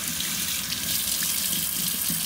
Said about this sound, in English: you're just rinsing everything out in the water